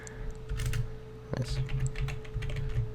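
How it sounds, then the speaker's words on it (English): Typing a command on a computer keyboard produces a quick run of close, crisp key clicks, with a short pause before a second burst of rapid keystrokes. "You're gonna go to CMD and you're gonna type reg svr32 and the name of the DLL"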